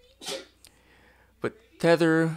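A single sharp sneeze bursts out near the start, and someone talks afterward.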